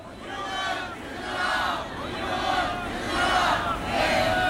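Protesters at a rally against Won Hee-ryong and for-profit hospitals chant slogans together in unison, a loud, swelling crowd roar that rises and falls in repeated waves.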